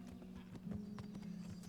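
Horse hooves clip-clop at a walking pace in the video game Kingdom Come Deliverance, faint rhythmic knocks riding over a low steady drone.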